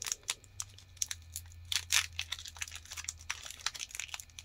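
A Pokemon TCG Fusion Strike booster pack wrapper crinkles and tears open up close, with sharp irregular bursts of foil crackling throughout.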